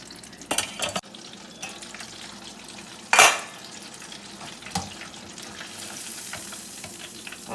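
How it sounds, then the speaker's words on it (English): Shrimp deep-frying in a fryer basket give a continuous bubbling sizzle, broken by a few sharp clanks and one loud burst of hiss as the basket is moved, all close with no talking. "we're going to fry these for about 4 to 5 minutes"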